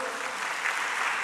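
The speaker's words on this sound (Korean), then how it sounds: "은혜 주신 하나님께 영광의 박수" A church congregation at a Sunday service applauds, a dense, even wash of many hands clapping together, sustained and fairly close throughout.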